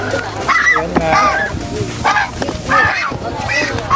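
Toulouse and Chinese geese honking in a series of loud, harsh calls at close range, overlapping with people talking throughout.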